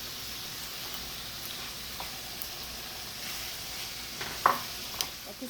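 Meat cooking in a pan for tacos, a faint, steady sizzle and hiss with a few soft clinks of utensil against the pan, no talking.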